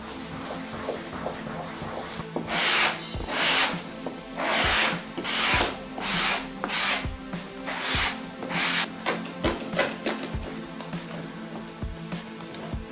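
Cloth soaked in thinner rubbed along the glued seam of a small wooden notebook table, giving a run of rhythmic rasping strokes, close and moderately loud, with no talking.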